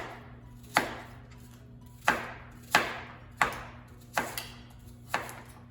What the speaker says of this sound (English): So what the idea with these is we're just going to cut these into small cubes.